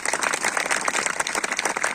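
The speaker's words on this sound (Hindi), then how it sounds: "एक बार जोर से अपने लिए ताली बजाइए" An audience at a spiritual gathering gives a short burst of clapping, a dense, fairly loud patter of many hands with no voices over it.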